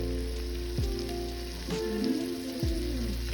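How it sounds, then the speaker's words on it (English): Bacon frying in a pan sizzles steadily and continuously at moderate volume, with faint background tones and no voices. "Now to wait patiently for the bacon to be done."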